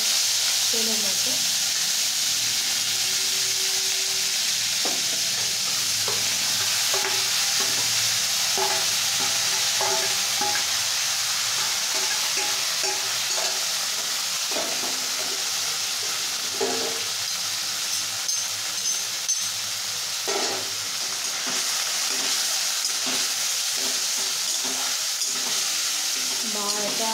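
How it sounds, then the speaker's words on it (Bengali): Chopped banana stem frying in oil in a wok, a continuous close sizzle with repeated scraping and clacking of a spatula stirring it over nearly half a minute. "এবার থোড়টাকে মা কড়াইয়ে দিয়ে দেবে"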